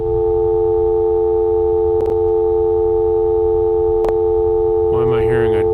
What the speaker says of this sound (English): Why am I hearing a dial tone?